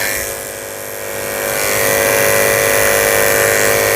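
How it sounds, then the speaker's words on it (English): Electric dog clippers with a 30 blade buzz steadily at close range while shaving the corners of a Goldendoodle's eyes, the motor tone rising slightly in loudness partway through. "I'm going to use my 30 blade very lightly to shave the corners of his eyes"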